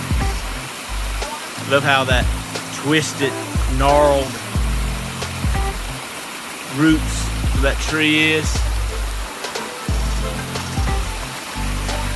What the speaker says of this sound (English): Waterfall coming down.